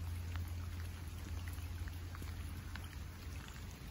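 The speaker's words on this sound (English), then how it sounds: "This rain eases off." Steady rain falls outdoors at a carp fishing lake, a dense, even patter of drops lasting throughout with no voices, fairly close and moderately loud.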